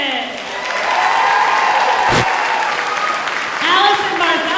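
A school spring concert audience applauds the soloists with a loud, continuous clapping wash, while voices talk over it.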